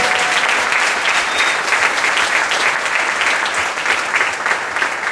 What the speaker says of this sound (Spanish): Aplaudan a Cristo vivo y regeneración para siempre.